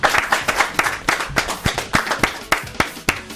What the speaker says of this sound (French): Public, merci d'applaudir pour ces grandes stars.